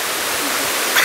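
The Salton waterfall on a hiking trail gives a steady, even broadband roar of falling water for about a second, with no voices over it.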